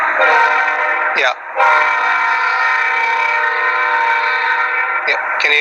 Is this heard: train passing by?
yes